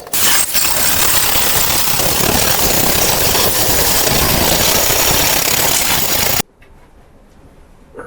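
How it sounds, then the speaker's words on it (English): An angle grinder works down a metal lawn mower pulley on a lowered MTD mower, making a harsh, loud, continuous grinding roar for several seconds before cutting off into a low hum. "start grinding down this pulley, get it cleaned up and ready to go back on the mower"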